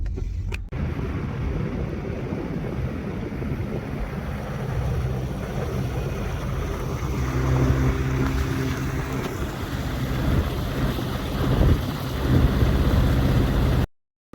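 A small outboard motor on a tender boat drones steadily as it moves across water, with wind buffeting the microphone throughout.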